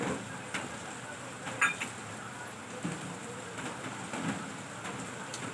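Steady heavy monsoon rain falls in a continuous hiss at moderate distance, with faint soft ticks of drops standing out now and then and no talk over it.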